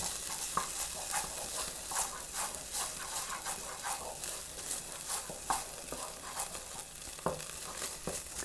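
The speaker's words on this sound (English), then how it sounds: "I'm going to add in the tomato puree and fresh tomatoes" Tomato puree and fresh tomatoes being stirred into a hot pan for a feta cheese potato bake, giving a steady sizzle with repeated scraping and clinking strokes of a utensil close by, no talking.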